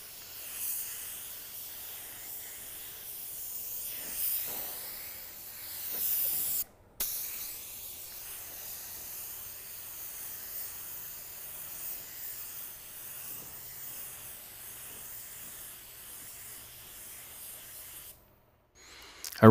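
A paint spray gun hisses steadily as clear coat goes onto a car bumper, with a couple of short breaks in the spraying.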